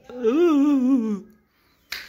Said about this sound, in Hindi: ऐसे चुटकी करूँ